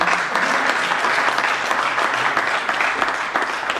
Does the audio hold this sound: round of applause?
yes